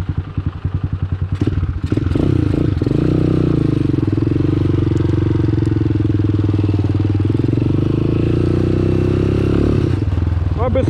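A motorcycle rides at a bikers' rally in Cieszyn, its engine loud and close, rising from uneven chugging into a sustained, steady roar that lasts to the end, with some talk mixed in.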